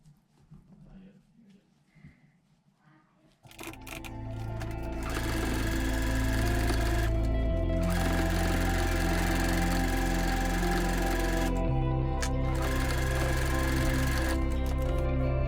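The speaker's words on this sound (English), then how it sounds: "So I'm going to sew that into place." Domestic sewing machine stitching fabric trimmings into a quilted placemat, starting after a few quiet seconds and then running as a loud, steady, close-up mechanical whir that shifts speed in stages.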